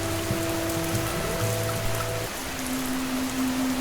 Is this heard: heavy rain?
yes